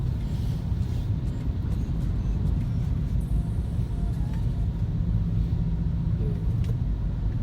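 Car crawling through a smoke-covered traffic jam in Palembang, with a steady low engine and road rumble close by, a faint hiss on top, and no voices.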